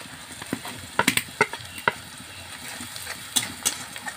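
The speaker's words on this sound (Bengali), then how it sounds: "মশলাটা আমি খুব সুন্দরভাবে কষে নিয়েছি।" Onion with grated lemon zest, dried chilli powder, turmeric and Maggi masala frying in a pan, a soft steady sizzle broken by irregular scraping strokes of a stirring spoon, quiet and close with no voices.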